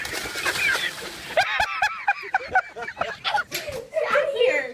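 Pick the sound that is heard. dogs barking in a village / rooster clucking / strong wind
rooster clucking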